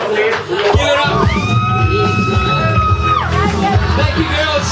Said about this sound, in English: A big cheer for my volunteers tonight. Give it up.